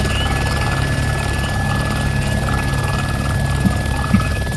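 Helicopter in the ArmA 2 video game, a steady loud rotor and engine drone holding constant throughout, with a continuous high whine and a couple of faint thuds near the end.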